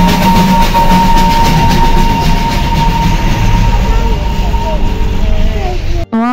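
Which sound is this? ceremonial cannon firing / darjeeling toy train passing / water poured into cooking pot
darjeeling toy train passing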